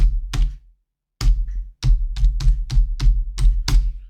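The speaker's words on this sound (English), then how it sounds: "Really pound on those keyboards, don't I?" Hard, close keystrokes on a computer keyboard right beside the microphone, a few isolated taps then a quick run of about eight sharp clicks in an uneven typing rhythm, loud and alone.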